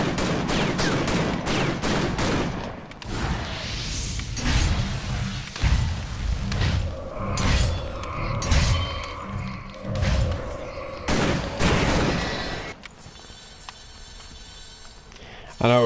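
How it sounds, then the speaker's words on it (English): Rapid bursts of gunfire in the action RPG Victor Vran, dense volleys with heavy thumps through most of the stretch, then dropping away near the end. Game music and effects sit underneath, and a voice talks over parts. "Oh, there's still something shooting there."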